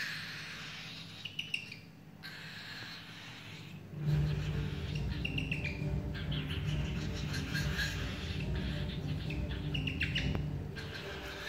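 A cockatiel chick chirps during hand-feeding, giving short, high, thin peeps in scattered bursts, close by, over a low hum that grows louder partway through.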